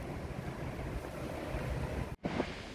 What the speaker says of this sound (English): So that there is the Pigeon River.